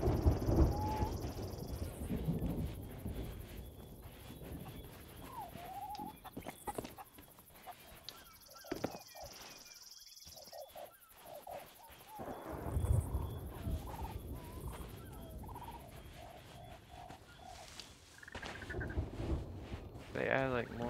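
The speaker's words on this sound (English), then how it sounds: "They add like more animal sounds this game." Animal and bird calls in a video game, including a gobbling fowl-like cry and varied chirps and squawks repeating through the scene, moderately faint, mixed with game ambience and intermittent talking.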